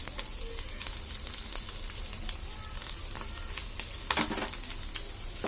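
Egg sizzling in hot oil with softened vegetables in a pan for egg fried rice, a steady close frying hiss with occasional scraping stirs.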